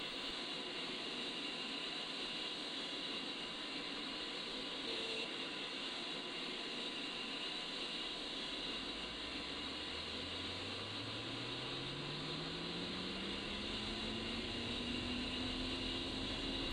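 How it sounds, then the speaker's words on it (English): The engine of an A-10C II Warthog in the DCS World flight simulator spools up in a cockpit start-up, a steady whine and hiss joined by a low tone that climbs gradually in pitch as the turbine gains speed. "As the engine spools up"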